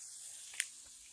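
A batch of French fries sizzles in deep frying oil, a faint, steady, hissing crackle that runs evenly throughout, with one brief sharper pop near the middle.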